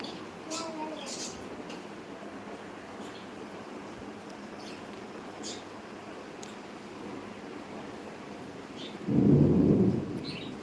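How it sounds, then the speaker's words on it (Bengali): Heavy rain pours in a dense, steady wash, with a low rumbling gust near the end. "প্রচুর বৃষ্টি হচ্ছে প্রচুর"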